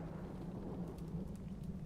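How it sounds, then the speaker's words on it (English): Steady rain pours with a low rumble of thunder beneath it in the adventure game Secret Files Tunguska, a continuous soft wash with no voices. "It's raining cats and dogs."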